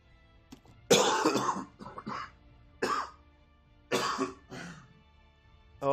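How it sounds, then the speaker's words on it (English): A person coughs in several harsh, rough bursts, close and fairly loud, with short pauses between the fits and quiet in between. "Oh, this cough."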